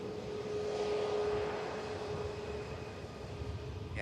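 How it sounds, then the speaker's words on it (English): A Virgin Atlantic airliner on final approach to touch down at Manchester Airport, a steady distant jet engine roar with a faint tonal whine, swelling slightly then easing. "beautiful Virgin Atlantic. About to touch down, flight Victor Sierra"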